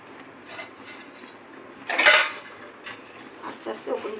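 Gentle stirring of jackfruit koftas in gravy in a pan, with soft scrapes and a louder clattering rub of the spoon against the metal, close and intermittent.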